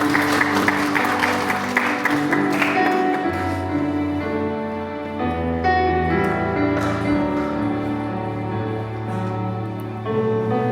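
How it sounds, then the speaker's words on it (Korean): Congregation applause during a Sunday church service, clapping heard beneath swelling organ or keyboard music that grows louder as the clapping fades. "수고한 수빈이에게 박수 부탁드리겠습니다"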